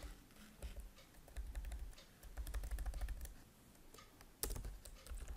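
Rapid, irregular keystrokes on a computer keyboard while entering records into a student database table, clattering closely in uneven bursts with no talking.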